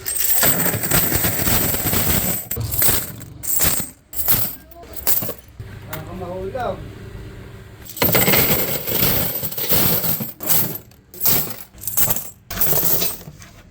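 Five-peso coins pour and clatter out of pisonet coin boxes as they are opened, in loud, dense metallic cascades with brief pauses between bursts, and faint voices underneath.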